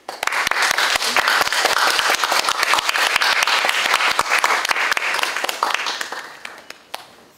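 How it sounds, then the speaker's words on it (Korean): A lecture audience welcomes a film director with warm applause. Crisp, close individual claps stand out over a dense clapping bed, which holds steady and then tapers off toward the end. "뜨거운 박수로 맞아주시면 합니다"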